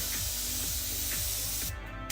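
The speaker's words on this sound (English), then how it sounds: "It's spraying." An airbrush at 25 psi sprays new paint in a steady, close hiss that runs unbroken for about two seconds.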